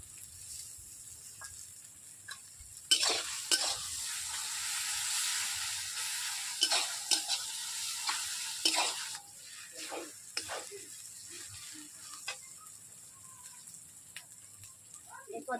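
Ginger paste with spices frying and being stirred for a village-style chicken curry, a steady hiss of oil broken by repeated scraping stirs, loudest in the middle, with no one talking.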